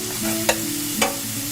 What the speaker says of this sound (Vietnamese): Mình cho dầu vào chảo khoảng 2 muỗng canh dầu. Và mình cho sả vào trước nè